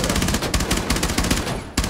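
Rapid automatic gunfire hammers against a shield in Rainbow Six Siege, a dense, loud, continuous burst of shots with steady rhythm across the whole stretch and a brief gap near the end before firing resumes.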